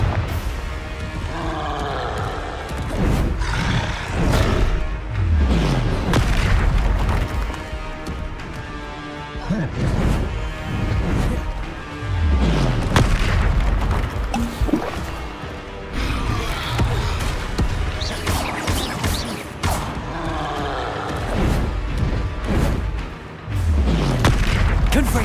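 Repeated booming spell blasts from the Confringo blasting curse in the game Hogwarts Legacy, a dense run of loud crashing explosions and impacts following one another every second or two throughout.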